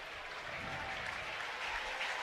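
Baseball crowd at a Sunday night Mets–Phillies game giving pitcher Jesus Luzardo a standing ovation, a steady wash of applause and murmur filling the stadium with no voice over it.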